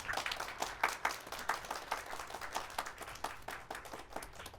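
Applause from a lecture audience welcoming a professor to give a keynote talk at an academic conference, a faint, scattered patter of clapping heard at a distance, with no voices over it.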